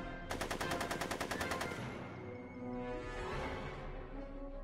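Rapid automatic gunfire from Back to the Future: The Game on Xbox One, a fast burst of shots lasting about a second and a half, followed by a busy game soundscape.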